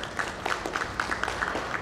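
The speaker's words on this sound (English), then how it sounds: "Please give them a huge round of applause." Conference audience applauding a panel and its moderator at an insurance industry summit and awards event, a steady patter of clapping at moderate distance with faint crowd murmur, no one speaking over it.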